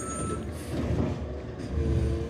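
A recycling truck hauling green waste around a cul-de-sac rolls along with steady engine rumble, while high electronic reversing beeps sound through the continuous drone.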